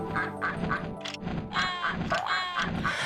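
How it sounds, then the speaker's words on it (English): Several bird quacks repeat in quick succession in a video game, loud and close, over steady game music. "It is a bird here."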